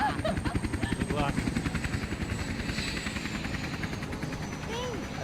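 In the video game Max Payne 3, a helicopter flies with a rapid, rhythmic rotor chop that is loud at first and eases slightly, as people talk over it.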